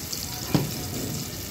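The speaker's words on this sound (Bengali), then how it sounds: "একটু পেঁয়াজ বেরেস্তা করে নেওয়ার জন্য একটু পেঁয়াজ দিয়ে দিলাম" Onions fry in oil in a pan for a fish kalia, making a steady, fairly loud sizzle. One brief clack of a utensil comes partway through.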